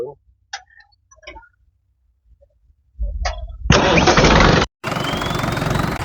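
A Mahindra 585 XP Plus turbo tractor cranks after a few faint ticks, then its diesel engine starts with a loud burst and settles into a steady idle. Brief voices come before the start.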